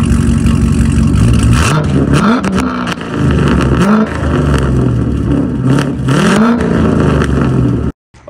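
A Dodge Challenger Hellcat Redeye and a C7 Corvette Z06 rev their engines loudly up close, with repeated sharp throttle blips rising and falling over a steady rumbling idle, then cutting off abruptly at the end.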